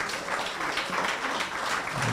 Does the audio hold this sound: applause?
yes